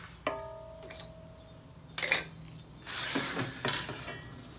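A fresh egg cracked against a bowl for cornbread batter: a sharp tap, then a couple of quiet clinks and shell sounds, close up in a silent kitchen.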